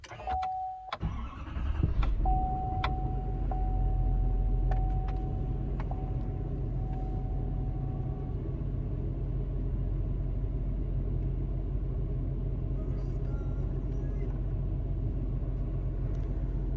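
A 2022 Chevy 2500HD Duramax diesel crew cab pickup cranks briefly and fires up, settling into a loud, steady low rumbling idle with a faint whine, heard close and alone.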